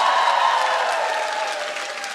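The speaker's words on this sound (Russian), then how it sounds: "Эти аплодисменты надо адресовать Елене." An audience in a comedy hall applauds a stand-up performer, dense sustained clapping that slowly thins out toward the end.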